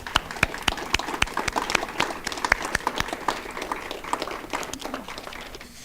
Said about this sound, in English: I think that all these folks deserve a round of applause.